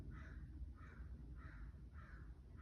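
A crow caws four times at an even, unhurried rhythm, moderately distant, over a low background rumble.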